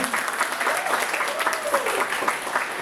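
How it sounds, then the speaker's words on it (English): An audience claps and cheers during a school golden jubilee night, steady applause with some voices from the crowd mixed in. "Another round of applause, ladies and gentlemen."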